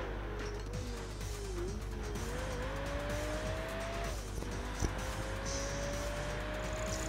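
A rear-wheel-drive BMW races in the video game Project Gotham Racing 4, its engine droning and climbing steadily as the tires squeal through long slides, loud and continuous with no talk.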